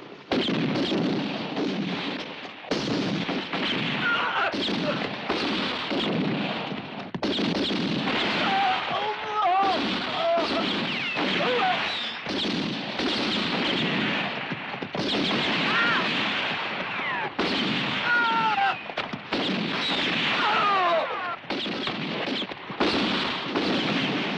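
Gunfire in a shootout scene from the action film Shanghai Joe: dense, loud bursts of shots and blasts layered continuously over roughly twenty seconds, mixed with shouting voices and film soundtrack.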